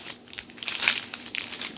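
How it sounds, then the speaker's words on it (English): Something is slipped into a small plastic bag, which gives soft crinkling and rustling in several short bursts, close up, with no voice. "I'm going to put this in a little plastic bag I'm keeping it in"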